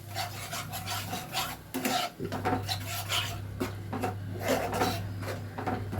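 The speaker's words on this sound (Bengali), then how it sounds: "টক দইটা দিয়ে ভালো করে কিন্তু সঙ্গে সঙ্গে নাড়তে হবে, নাড়াটা কিন্তু বন্ধ করা যাবে না।" Sour yogurt is stirred continuously in a cooking pan for an egg paneer dish, giving a steady scraping and rubbing of the utensil against the pan over a low constant hum.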